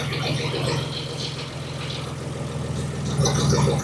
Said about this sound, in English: I do hear some rattling though.